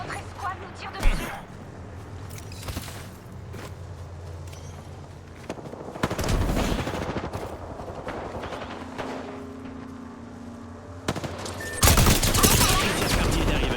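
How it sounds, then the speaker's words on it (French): Gunfire from an enemy squad in Apex Legends, bursts of rapid shots and impacts through the match, mixed with footsteps and game sounds while players talk over it. "Une autre escouade nous tire dessus."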